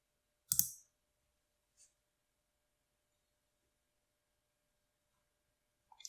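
A few sharp, isolated computer mouse clicks in a quiet room, one louder click followed by a faint one and then a quick pair near the end.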